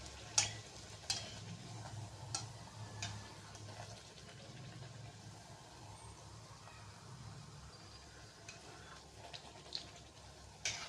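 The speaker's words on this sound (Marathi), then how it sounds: "स्लो मिडियम फ्लेममध्ये आपल्याला या पुऱ्या छान अशा तळून घ्यायच्या आहेत" Beetroot puris deep-fry in oil over a slow-medium flame with a soft, steady sizzle and bubbling, broken by occasional sharper pops and utensil taps, close and fairly quiet with no talking.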